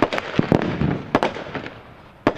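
Rapid gunfire bursts during a police college assault demonstration outdoors, sharp loud cracks in irregular clusters with short pauses, no talking.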